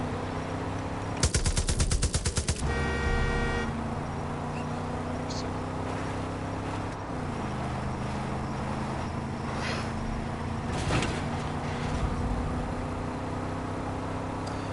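Automatic gunfire in the video game Far Cry 5, a fast loud burst of shots followed by engine-like drone and scattered game effects, with a voice talking over it.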